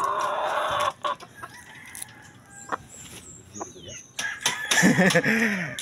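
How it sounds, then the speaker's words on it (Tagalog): Chickens cluck nearby and a rooster crows near the end, with people talking in Filipino over the birds. "Oh, ang ganda ng manok."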